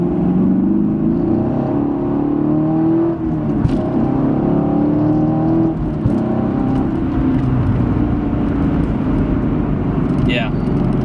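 A 2016 Camaro SS 2SS V8 engine pulls hard in track mode, a loud sustained drone with rising pitch from inside the cabin. A brief shift-like break comes midway, and a voice briefly speaks near the end.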